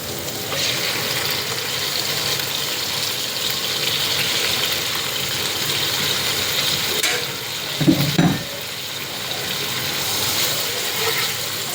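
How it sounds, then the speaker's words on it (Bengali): Rohu fish belly pieces fry in hot oil with onions, a continuous loud sizzle and spatter with a brief clatter of the pan or utensil partway through, no voices. "এটা এরকম তেল পেঁয়াজের সাথে ভেজে নেবেন।"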